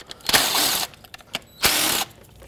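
A hand ratchet loosening a 10 mm bolt on a Toyota Corolla engine during valve cover work, two bursts of rapid clicking close by with a few short knocks between them.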